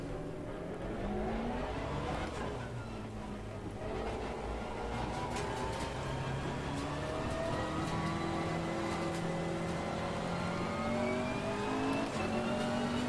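A GT race car in Assetto Corsa Competizione laps the wet Zolder circuit, its engine revving up and down through gear changes in a steady, close, continuous drone with rising and falling pitch sweeps.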